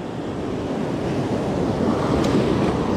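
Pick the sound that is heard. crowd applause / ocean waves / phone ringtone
ocean waves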